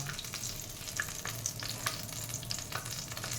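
Cumin seeds sizzle steadily in hot butter and oil in a pan for Jain dal makhani. The crackling hiss is continuous and moderately quiet, with a few small pops scattered through it. No one talks.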